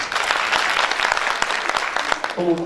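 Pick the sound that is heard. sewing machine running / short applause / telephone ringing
short applause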